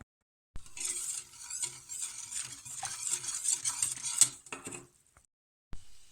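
A spoon stirs and scrapes through a cooking chocolate and vanilla cream mixture in a pot, brisk close swishing with light sizzle, then a brief pause and a final clink.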